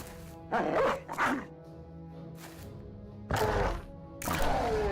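A dog barks in the Battle Brothers video game, giving several separate bursts of barking and yelps over a low, steady game background.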